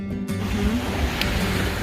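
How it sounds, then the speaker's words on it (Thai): Strong ocean surf surges against large rocks below a black sand beach in Kos, a steady, loud, broadband roar of rushing water with no voices over it. "แล้วก็คลื่นซัดมาแต่ละทีคือคลื่นแรงมาก"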